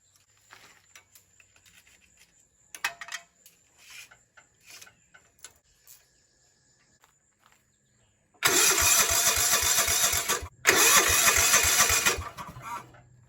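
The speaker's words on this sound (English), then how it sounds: "This motor here is an older Kawasaki off of old John Deere." An older Kawasaki engine taken from an old John Deere lawn mower, probably with a points ignition, cranks in a few short bursts and then catches. It runs loud and rough, cuts out for a moment and then keeps running up close.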